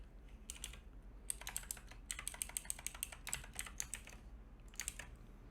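Rapid bursts of keystrokes on a computer keyboard, clustered clicks with short pauses between runs, close and fairly quiet over a low room hum.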